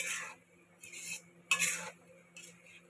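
Cheese balls tumble into a pan for honey chilli potato and are stirred, giving a few short scraping, clattering bursts of utensil against metal with quiet pauses between.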